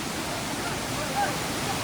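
A waterfall at a hillside picnic spot in Karbi Anglong roars as a constant broadband rush, steady and fairly faint, with no voices heard.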